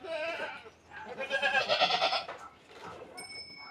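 Goats of the Saanen breed bleat on a farm with repeated wavering, nasal calls close by, rising and falling in loudness over a few seconds, with faint background voices.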